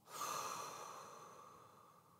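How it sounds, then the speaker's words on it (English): A deep breath drawn in and a long, soft exhale fading out slowly, close and quiet with no talk. "You're going to take a big deep breath in. And a long exhale."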